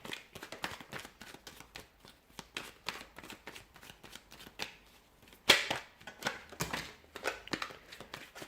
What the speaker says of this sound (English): Oh, I've got a few cards that have fallen out. Just going to reshuffle.